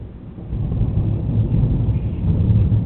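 Thunder rumbles low and steadily during a storm in Kissimmee as rain begins to fall lightly, a distant, continuous roll with no voices.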